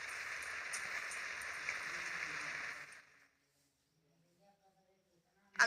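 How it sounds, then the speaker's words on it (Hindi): Heavy rain pours down in a steady dense hiss for about three seconds, then stops abruptly and leaves near silence with a few faint sounds. "घर पर आते ही भयंकर बारिश शुरू हो गई"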